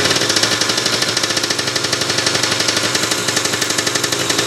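A Kawasaki Ninja motorcycle engine with a faulty, leaking O-ring seal runs close up with a rough, rapid rhythmic knocking pulse that swells slightly with each throttle blip, loud and steady with no talking.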